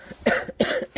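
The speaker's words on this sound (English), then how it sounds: "I'll try to hold my coughs in." Three quick, breathy coughs in a row, close and fairly loud.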